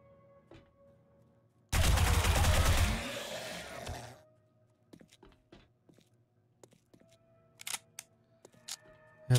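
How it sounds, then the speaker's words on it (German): A submachine gun rattles off a dense burst of rapid shots for about two seconds in the video game 7 Days to Die, loud and close, then dies away into scattered clicks and footsteps. "Müssen wir mit der MP schießen."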